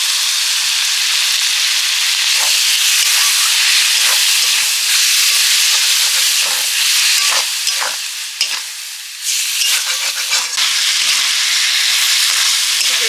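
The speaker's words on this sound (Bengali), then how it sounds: "বেশি জ্বালানি দিয়েছি যাতে ফোড়নটা ভালো ওঠে চক করে উঠবে একদম" Spices and tomato chili powder fry in hot oil over high heat for a meat ghugni, giving a loud, steady sizzle with scattered stirring clinks throughout, no voices.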